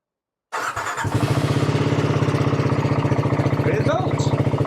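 A car's ignition turns on and the engine starts after a short silence, settling into a loud, rhythmic idle with a steady pulsing chug.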